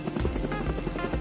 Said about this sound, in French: genre il y a un hélico de Noël